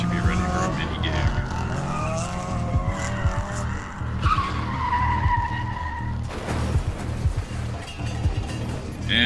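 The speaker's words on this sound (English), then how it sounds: "And we get in a car wreck." Tires squeal and a car skids during a crash scene in the video game The Book Walker, with rumbling engine and impact noises under repeated squeals, while someone talks over the game audio throughout.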